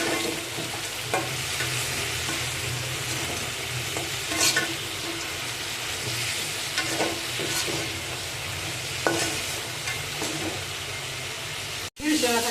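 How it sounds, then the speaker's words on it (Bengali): Crab pieces frying in a pan sizzle steadily while being stirred, with repeated scraping strokes against the pan and a voice talking over it. "হালকা একটু নাড়াচাড়া দিয়ে দিচ্ছি"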